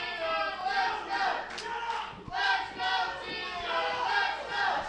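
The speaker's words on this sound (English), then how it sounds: "the crowd chanting for the 10-man Tim Scruggs" Wrestling crowd at a Southern wrestling broadcast chanting in rhythmic swells for 10-man Tim Scruggs, a dense, steady mass of voices rising and falling in waves across the clip.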